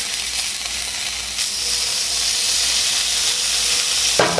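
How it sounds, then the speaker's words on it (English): Butter sizzles steadily in a hot pan just cleared of steak bites, with the heat turned down to low. A loud, continuous hiss and crackle runs throughout, and a sharper burst comes near the end. "Now all we're going to do is add in the butter."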